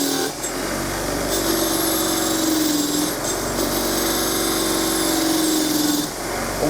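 A bench grinder spins a wire wheel against a trike's forks to strip off lacquer, a steady loud whirring grind with a high scraping edge that dips briefly as pressure changes.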